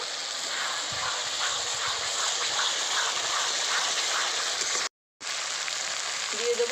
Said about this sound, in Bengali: বেটে রাখা মশলা দিয়ে দেব এবার ভালো করে কষিয়ে নেব